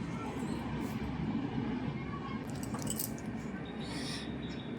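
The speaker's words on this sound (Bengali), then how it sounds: "আমার ট্রেনের আওয়াজটা কিন্তু খারাপ লাগে না" A train passes along a track seen from an apartment balcony, a low, continuous rumble heard from a distance with faint higher clatter on top.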